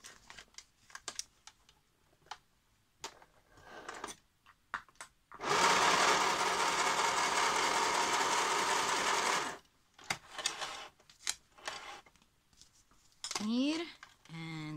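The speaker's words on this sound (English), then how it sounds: "I'm gonna, with straight stitching, to sew just this edge and that bottom edge." Sewing machine straight stitching along the edge of a recycled book insert pocket, a steady loud run of about four seconds between quieter handling noises and brief talk.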